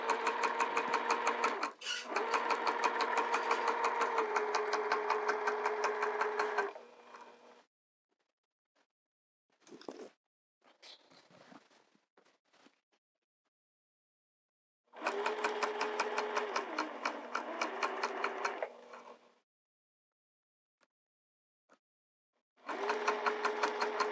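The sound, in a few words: sewing machine stitching a skirt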